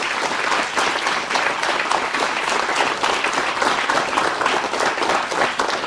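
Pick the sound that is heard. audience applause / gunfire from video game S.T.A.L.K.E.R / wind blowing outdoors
audience applause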